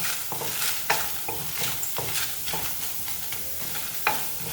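Chopped onions are stirred in a dry frying pan before oil is added, with rhythmic scraping strokes of a spatula over a soft sizzle, close and repeated about every half second.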